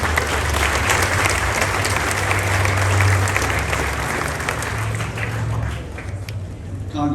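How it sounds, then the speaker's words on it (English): A crowd at a passenger rail project event applauds for city employees, a broad, steady wash of clapping with a low hum underneath, easing off at the very end. "So let's give them applause"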